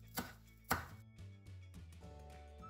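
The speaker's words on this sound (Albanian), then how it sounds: "Kemi një tufë me majdanos, e presim dhe majdanosin ta kemi gati." A bunch of parsley is chopped on a board: two sharp, close knife strikes, then softer, quicker taps continue quietly.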